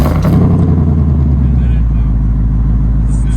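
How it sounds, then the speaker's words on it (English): A 2024 Ford Mustang GT V8 rumbles close and loud just after a remote start, with a deep, steady idle and people talking over it. "So let's go ahead and we're gonna go ahead and start it. All right, so first let's start the car up."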